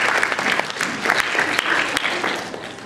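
A seminar audience applauds themselves in a dense, steady round of clapping that fills the room at close range, with no talk over it.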